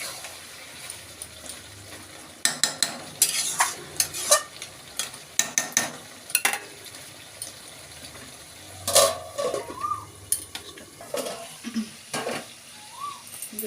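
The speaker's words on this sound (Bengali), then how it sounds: "দেখুন, আমার মাংসটা কষানো হয়ে গেছে" Meat being sautéed down in a pan: bursts of loud clattering and scraping from a spoon against the pot come in uneven clusters over a faint background sizzle, with quiet gaps between.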